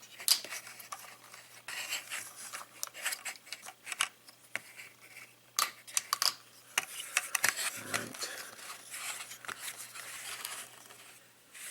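Plastic parts of a Transformers Titans Return Voyager Galvatron figure being untabbed and flipped out, a quiet series of small clicks, snaps and ticking taps at irregular intervals, close and faint, with no talking.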